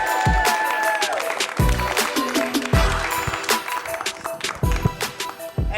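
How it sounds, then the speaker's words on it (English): A comedy club audience in Chicago claps and cheers for a comedian taking the stage, a busy scatter of hand claps with thumps and crowd noise, fairly close, with a voice briefly heard. "a big round of applause for Marcus Shakes"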